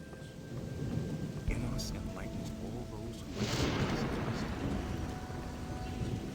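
Thunderstorm in the video game Gothic 2, with a steady rush of rain and a long, rolling rumble of thunder that swells partway through, loud and close, while a voice speaks underneath.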